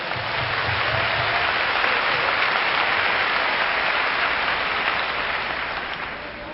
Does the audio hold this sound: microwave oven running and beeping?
no